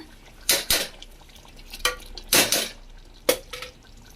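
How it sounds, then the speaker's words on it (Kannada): Rice tipped into a metal pot for palak chicken biryani, heard as several sharp clinks and scraping knocks of utensil against the pot, coming in short bursts with quiet gaps between them. "ಇವಾಗ ಇದಕ್ಕೆ ರೈಸ್ ಹಾಕೊಳ್ಳೋಣ."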